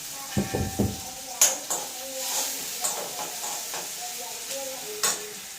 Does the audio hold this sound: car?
no